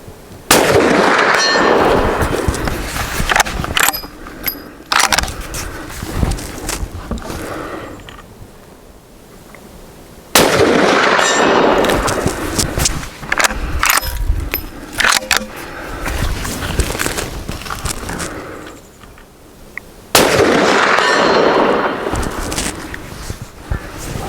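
Three loud, sharp rifle shots from a Ruger American Ranch in .450 Bushmaster fired at a 200-yard target outdoors, spaced about ten seconds apart, each followed by a rumbling echo and quieter handling sounds.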